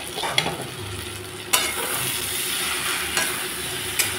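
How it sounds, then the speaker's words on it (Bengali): Fried lentil dumplings dropped into an egg curry frying in a pan, giving a steady sizzle with a few sharp clinks and stirring knocks, close and loud, no talking. "এখন দিয়ে দিচ্ছি বড়িগুলো।"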